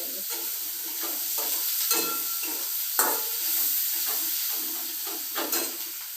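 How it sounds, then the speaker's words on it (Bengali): Sliced onions sizzle steadily in a hot pan while a spoon stirs them in repeated scraping strokes, the hiss loud and close with no voices. "কষাতে কষাতে পেঁয়াজ একদম হয়ে যাবে"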